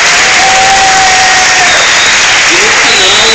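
A church youth service congregation claps loudly and continuously, dense applause close to the mic with voices mixed in.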